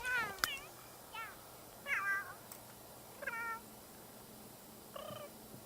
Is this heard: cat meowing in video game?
yes